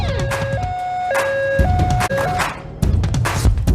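A loud two-tone siren alternating high and low, with engine rumble and traffic noise underneath.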